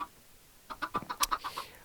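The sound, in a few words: chickens clucking in video game Minecraft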